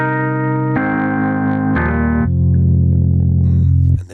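A Rhodes electric piano plugin is played softly through a heavily cranked compressor, giving a few sustained chords with even, squashed dynamics and bright bell-like overtones, alone and fairly loud.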